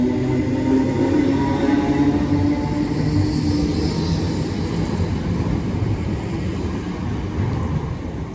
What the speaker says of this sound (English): And a double set of trams.